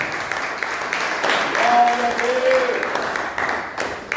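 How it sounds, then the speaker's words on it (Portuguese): A church congregation applauds during an evening service, producing a steady wash of clapping while a voice carries over it. "aplauda o nome do Senhor Jesus, glorifica o nome dele nessa noite"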